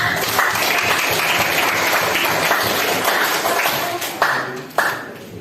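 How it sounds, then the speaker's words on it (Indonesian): Students in a classroom clap for a group after its presentation, dense and loud hand clapping throughout, with a couple of sharper single claps near the end as it thins out. "tepuk tangan untuk kelompok"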